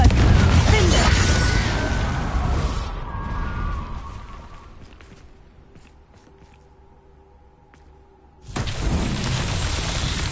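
A Confringo spell in Hogwarts Legacy bursts with a loud booming blast that rumbles and fades over several seconds into a quieter ringing tail, before another loud burst of noise returns near the end.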